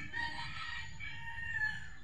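Chickens clucking and calling softly in the background, with faint outdoor noise throughout; no talking.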